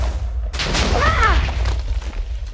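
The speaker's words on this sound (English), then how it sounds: "Not a bad explosion. I only put 4 blocks of explosive." Four explosive blocks go off in Minecraft: a sudden loud blast bursts in and decays into rumble, with an excited voice speaking over it.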